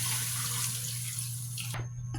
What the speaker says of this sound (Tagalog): Tsaka tayo maglagay ng tubig para palambutin naman yung karne.